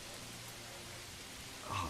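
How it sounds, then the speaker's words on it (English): Steady rain falls in the medieval village of Manor Lords, a soft, even wash of drops that holds through the clip and grows slightly louder near the end. "Rain trickling down."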